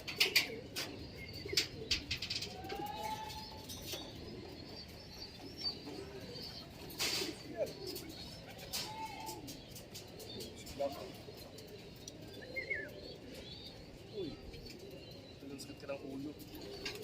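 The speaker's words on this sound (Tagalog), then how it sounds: "may makulit talagang ibon" Racing pigeons at a training release coo softly in a flock, with scattered chirps and brief wing flaps, while people talk nearby at moderate distance.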